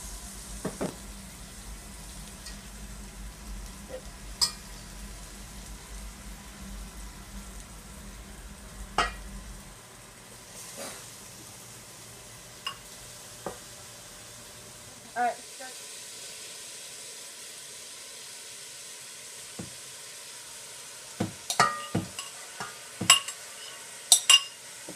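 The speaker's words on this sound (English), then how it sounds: "you will add all the chopped tomatoes and make the heat low and let it simmer for another 3 minutes" Chopped tomatoes simmer on low heat in a pan with a soft hiss, broken by scattered clinks and scrapes of a stirring utensil that grow more frequent toward the end, while a low background rumble fades out partway through.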